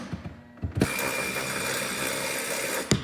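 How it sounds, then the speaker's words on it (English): A ratchet works loose the 13 mm bolts near the windshield of a Dodge Neon, a few sharp clicks followed by a steady, close mechanical whirring with a final clack at the end, no talk. "undo our 2 bolts, not break the windshield, grab the bolts"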